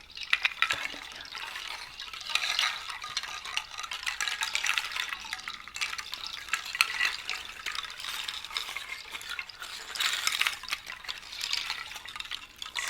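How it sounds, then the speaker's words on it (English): Soft, continuous swishing and sloshing of hands moving through water, close up and fairly steady across the whole stretch with slight surges, no talking, made as an ASMR sound. "it just sounds as if you're moving in water"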